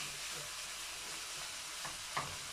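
Chicken frying in oil with salted onions, ginger and garlic for a Bangladeshi chicken and beans dish, giving a steady, even sizzle with a faint stirring scrape near the end, close and alone.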